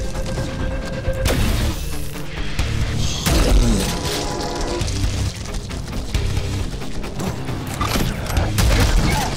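Charged gun blasts in the video game Prodeus, a loud close run of heavy booms and crashing impacts with clanking mechanical noise between them, several big hits spaced across the stretch.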